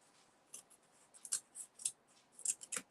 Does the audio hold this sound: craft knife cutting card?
yes